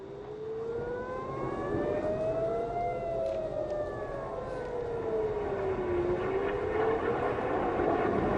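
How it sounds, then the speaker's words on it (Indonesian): A wailing air raid siren in Tel Aviv rises and falls slowly over a steady background rumble, sustained and loud throughout with no voices. "Sirine serangan udara terdengar di seluruh kota Tel Aviv Selasa pagi waktu setempat."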